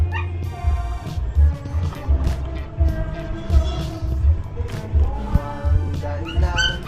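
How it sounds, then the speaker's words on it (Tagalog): A dog cries and whimpers for food, repeated high yelps and whines in uneven bursts over a lively background with a pulsing low beat. "Habang aso doon ay naiyak dahil hindi siya pinagbibigyan ng pagkain."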